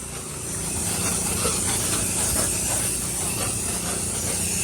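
A pressure washer turned down low, drawing chemical through a 1.8 orifice during a church wash, gives a steady, close hiss of spraying water that holds even and unbroken throughout.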